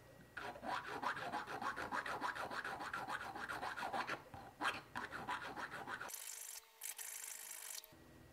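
Hand strokes grinding down a wristwatch winding crown stem, a steady rhythmic rasping scrape repeated many times in quick succession, close and fairly quiet, pausing briefly near the end.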